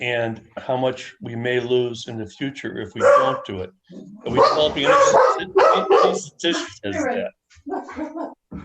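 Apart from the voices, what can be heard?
dogs barking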